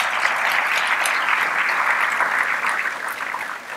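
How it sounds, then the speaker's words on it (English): Audience applauding sponsors at an early childhood economics event, steady dense clapping that fills the room, loud and sustained before tapering slightly at the end. "Please join me in a round of applause for our sponsors."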